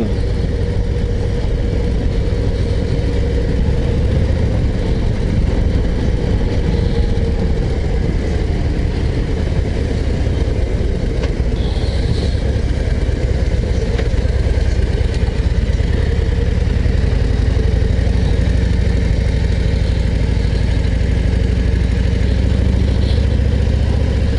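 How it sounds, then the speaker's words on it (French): A 2024 Harley-Davidson Street Glide 117 with a big V-twin engine runs steadily at close range, its low, even drone continuing without a break under wind rush for the whole stretch. "Les moteurs les gros V-twin Harley Davidson."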